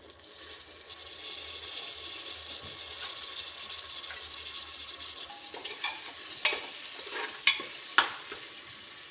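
Sliced country tomatoes frying in a pan with ginger-garlic paste and chillies, a steady close sizzle with stirring, ending in a few sharp clacks of a utensil against the pan.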